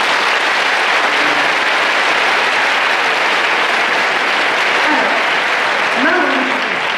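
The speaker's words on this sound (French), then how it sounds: "On va faire le bouton applaudir." Audience at a cosplay contest claps steadily and loudly for the full stretch, a dense continuous wash of applause with a few voices calling out near the end.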